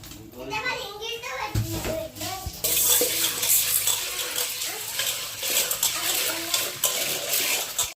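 Drinking water pours from a tap to soak ingredients for a festival meal, splashing and gurgling under steady talk and children's voices nearby.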